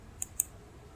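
Two quick, crisp computer mouse clicks, close and distinct, about a fifth of a second apart over quiet room tone.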